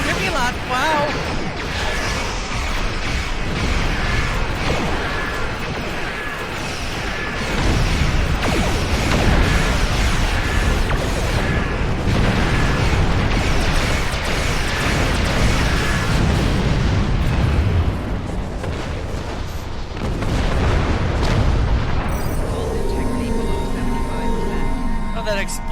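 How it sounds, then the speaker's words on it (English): Explosions rumble in Star Trek Online space combat, deep booming blasts swelling and fading amid continuous loud weapon fire and game noise, with a voice talking over it. "That explosion almost cooked me out."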